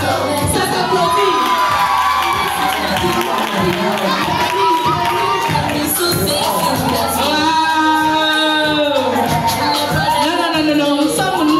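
A crowd of children at an outdoor celebration cheering and shouting loudly, with whoops and sustained excited voices filling the whole stretch.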